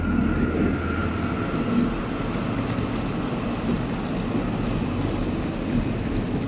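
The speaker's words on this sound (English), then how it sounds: "Oh, here's another train." A train passes through the platform at Yiwu Train Station, a loud, steady rumble of wheels and engine that holds unbroken from start to finish, close by and without a break.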